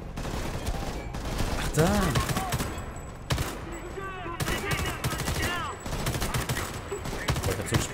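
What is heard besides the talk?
gunfire from an assault rifle in the video game Homefront: The Revolution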